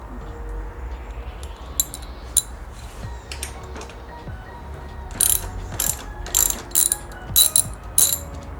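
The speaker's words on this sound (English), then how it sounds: "So you need a 12mm wrench for this bolt." A 12mm wrench ratchets a bolt on a Triumph Street Twin motorcycle's rear shock mount: bursts of rapid clicking from the pawl, then a quick series of sharp ratchet strokes near the end, close and fairly quiet.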